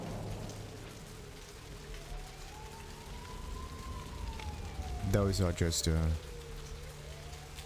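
Steady rain falls across a night street in Vampire the Masquerade Bloodlines, a constant hiss with a rising and falling siren tone, a short burst of louder sounds near the end, and brief talk.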